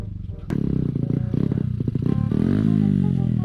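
Enduro motorcycle engine running close by on a trail, a throbbing idle that blips and rises into a louder rev, with some clattering along the way.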